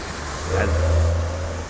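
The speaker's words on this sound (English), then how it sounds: "as the bus goes by" A bus passes by on a street in Hawaii, a low engine rumble swelling near the middle and fading, under a steady background of traffic noise.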